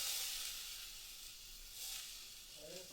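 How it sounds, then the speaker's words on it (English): White onion sizzling in hot olive oil during a cooking demonstration, a faint, steady hiss of frying with slight swells and no voice over it. "we got that in there nice and sizzling"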